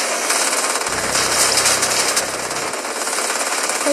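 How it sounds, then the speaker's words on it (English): Rapid minigun-like firing in the Minecraft video game, a loud, continuous, dense rattle of shots that swells and fades over a few seconds without any talking. "It's like a minigun."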